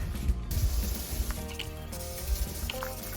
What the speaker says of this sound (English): We got one bed of sprinklers on. Let's see how it works.